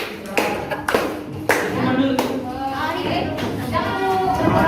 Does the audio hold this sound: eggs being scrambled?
no